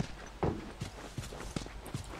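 Horse hooves in The Last of Us, a few soft uneven clops at walking pace, close and fairly quiet, with no talk over them.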